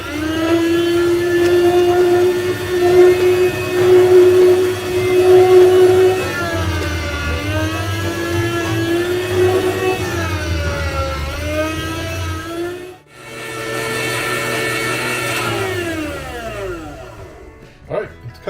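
A motorized meat slicer whirs steadily while cutting beef for jerky, a loud close mechanical drone that wavers in pitch as the blade meets the meat, briefly cuts out, then starts again.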